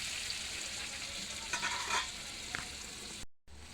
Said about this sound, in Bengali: এবার এটা কষবো অনেকক্ষণ